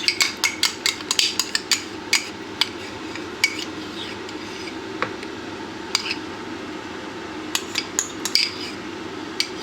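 Quark is spooned into beaten eggs in a mixing bowl, a spoon clinking and scraping against the dish in quick, uneven bursts, close and loud, with no talk.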